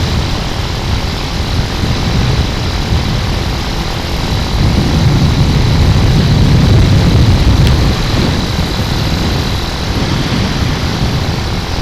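A Honda Hawk 250 motorcycle engine, needing rejetting, accelerates steadily through its gears, a loud continuous low drone that swells in the middle and stays close with no talking.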